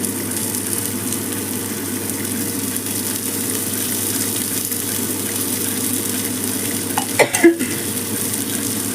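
Fish pieces fry in a small amount of oil in a pan, giving a steady, loud, close sizzle throughout, with a brief clatter of a utensil near the end.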